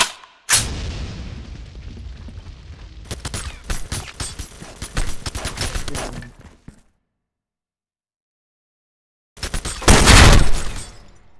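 Bursts of gunfire in the online shooter Special Force 2 during a clan war, with rapid loud shots and crackling impacts, then a silent gap before another heavy burst near the end.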